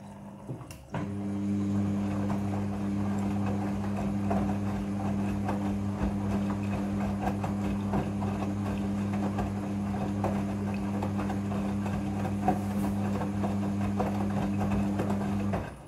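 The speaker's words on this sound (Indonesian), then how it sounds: "Pada proses pembilasan dengan air, mesin cuci akan mengatur jumlah kebutuhan air secara otomatis" A Midea front-loading washing machine runs its second rinse with water, giving a steady, close motor hum with a low droning tone that holds evenly and does not let up.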